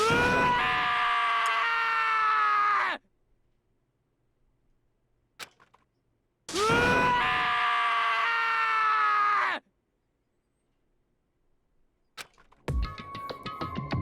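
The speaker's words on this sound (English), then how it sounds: "As Taka's sad screaming invaded our skulls" Taka, a character in the video game Danganronpa, lets out two long, loud anguished screams separated by silence, each about three seconds, followed by a brief sharp electronic sound at the end.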